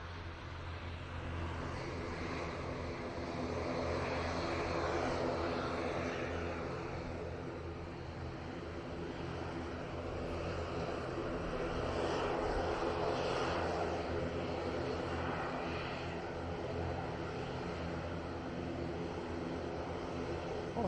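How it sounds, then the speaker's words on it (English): A KLM airliner lands at Manchester Airport. Its engines make a moderate, steady roar that swells twice as it passes, with no voices. "KLM is about to come into shot any second now, so we will get that arrival"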